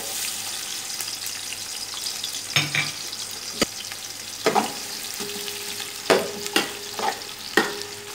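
Finely chopped onions added to hot cooking oil in a pan for pulao biryani, giving a soft steady sizzle with scattered clinks and scraping stirs, a faint tone in the background, no talking.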